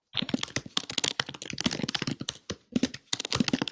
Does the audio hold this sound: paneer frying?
no